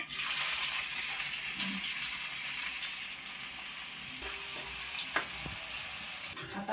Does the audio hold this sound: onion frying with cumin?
yes